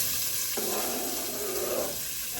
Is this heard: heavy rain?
no